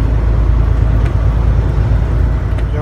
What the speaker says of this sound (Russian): Едем потихоньку.